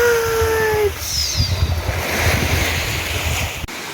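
Ocean waves wash onto a beach in Mombasa, a loud continuous surf roar with wind buffeting the microphone throughout.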